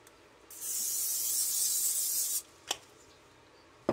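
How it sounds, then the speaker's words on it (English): Cooking spray hisses steadily into a baking pan for about two seconds, followed by a couple of short clicks or taps, close and clear with no talking. "I'm going to give it a little spray."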